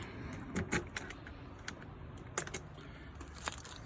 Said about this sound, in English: There's our keys.